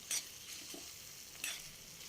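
Cluster beans coated in crushed peanuts are tossed in a pan, giving a faint low sizzle with two brief scraping bursts from the spatula, quiet and close, without speech.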